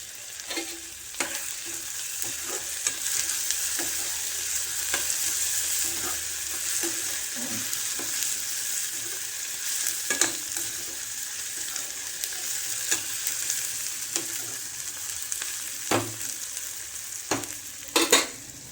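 Tomato and sprouted moth beans fry in a pan, giving a steady close sizzle with occasional sharper stirring scrapes throughout, no voices.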